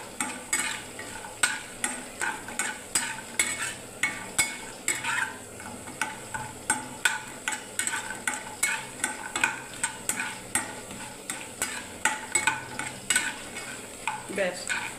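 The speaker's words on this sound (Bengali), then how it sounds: "বড়িটা দেখুন ভাজা হয়ে গেল।" Bori lentil dumplings frying in a pan at home, a soft sizzle running underneath while a spatula scrapes and stirs in a steady, repeated rhythm, close and clear.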